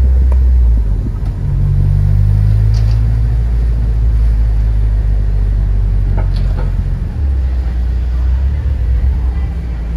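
A car engine drones low and steady while driving through Miami on the Goldrush Rally, a deep continuous rumble that shifts slightly in pitch partway through.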